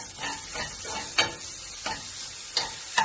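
Sliced onions with a pinch of salt are sautéed and stirred in a pan for a tuna pie filling, giving a soft, steady sizzle with periodic scraping strokes of the spoon roughly every half second to second.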